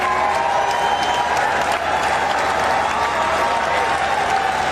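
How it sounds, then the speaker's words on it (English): A cricket crowd at an India versus Australia match applauds a batsman's half century, a continuous wash of clapping heard from a distance. "So gets a warm round of applause from the Australian dressing room and the crowd that's present here."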